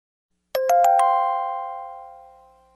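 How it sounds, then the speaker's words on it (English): A bell knell: a resonant bell struck four quick times, the tones ringing together into one long sustained hum that slowly fades over two seconds, alone and fairly loud. "Sound of a bell."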